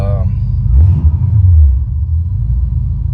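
A 1986 Buick Regal G-body with a 455 big block and Holley EFI idles warm with a low, steady rumble and a brief swell partway through, with a voice heard at the start.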